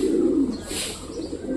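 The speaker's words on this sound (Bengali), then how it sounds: "এখানে যেহেতু আমাদের হাই ফ্লাওয়ার পায়রা আছে" High flyer pigeons coo in a low, throaty, continuous murmur, close and steady, with a faint brighter chirp partway through.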